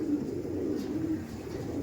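Low, continuous cooing from Madrasi pigeons kept for sale fills a short stretch, close and steady over a murmuring background.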